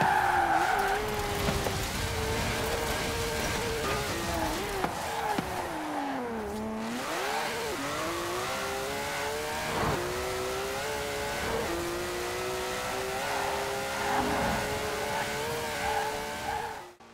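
A 1,200-horsepower car in the racing game Forza Horizon 4 revs hard through rising and falling gear changes while its tires squeal and skid, loud and continuous for the whole stretch.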